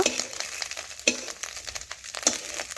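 Fish roe sizzles in a hot pan while a spatula scrapes and stirs it, with sharp scraping strikes punctuating the steady frying hiss at close range.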